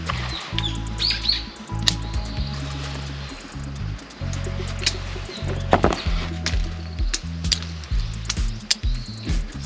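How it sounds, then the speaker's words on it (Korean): Birds chirp in a tangerine orchard on a farm in Jeju, scattered short calls at a moderate distance over a recurring low hum and occasional clicks. "새들 짹짹거리고."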